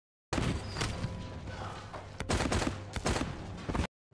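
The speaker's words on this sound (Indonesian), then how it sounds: "Saat mereka akan menembak anak itu," Gunfire in a film scene where a child is held hostage and a sniper opens fire: a dense, loud volley of shots and heavy thuds in several bursts over a few seconds, ending abruptly.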